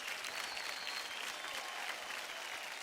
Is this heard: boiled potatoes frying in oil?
no